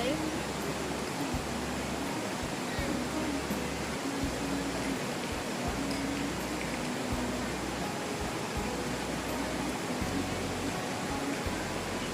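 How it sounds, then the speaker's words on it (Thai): A steady broadband rush of flowing water, constant and fairly loud throughout, with a low rumbling pulse underneath. "เสียงน้ำไหล"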